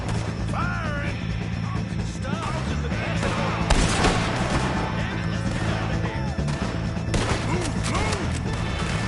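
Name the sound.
gunfire from video game Red Dead Redemption 2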